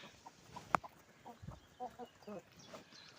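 Soft, scattered clucking of chickens alongside geese being fed in a quiet outdoor setting, with one sharp click and faint background noise.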